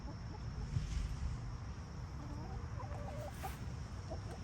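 Chickens in a garden cluck softly, with several scattered calls over a low background rumble.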